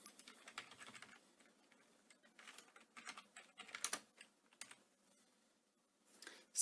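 Quiet, close keystrokes come in short irregular bursts with pauses as VBA code is typed on a computer keyboard.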